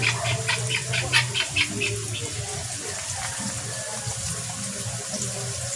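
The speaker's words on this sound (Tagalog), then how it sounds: "Dalagdagan na natin ng tubig." Water gushes steadily from a tap into a koi fish tub, a continuous splashing rush with a few faint bird chirps in the background.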